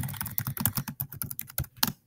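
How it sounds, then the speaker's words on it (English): Quick, uneven keystrokes on a computer keyboard, close and clear, a burst of about a dozen taps with short pauses between them, no voices. "Sometimes I just type in something like,"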